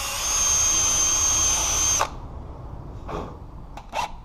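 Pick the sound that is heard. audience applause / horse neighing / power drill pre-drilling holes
power drill pre-drilling holes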